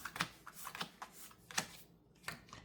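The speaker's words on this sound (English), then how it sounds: "I draw my 4 cards." Cards are drawn by hand during a Villainous board game with Ursula, making a string of quick, close papery flicks and slides at an irregular rhythm, with no talk.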